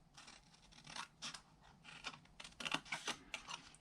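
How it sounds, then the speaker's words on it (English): Paper being cut for a boxed mini notecard set, a run of quiet, crisp snips and scratchy slicing strokes in uneven rhythm, close and alone. "And then I'll cut up here."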